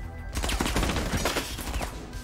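Gunfire in the video game Rainbow Six Siege: dense, rapid bursts of shots crowd about two seconds, loud and close, with no talking.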